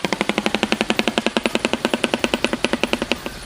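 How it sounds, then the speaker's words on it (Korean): A shoebill clatters its bill in a rapid, evenly spaced burst of about thirty loud, hard knocks, close and unbroken for over three seconds, like machine-gun fire. "바로 슈빌이 부리를 부딪히는 소리야."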